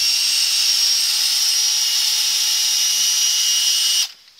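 Power drill unscrewing self-tapping screws in a shed: a loud, close, continuous high-pitched motor whine held steadily for about four seconds, then cutting off abruptly into near quiet.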